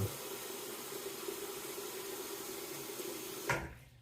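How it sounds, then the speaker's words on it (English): Hot water runs steadily from a tap into a basin while shaving, a constant close hiss and splash that stops abruptly near the end with a brief gurgle. "I'm going to run a little bit of hot water here in the basin."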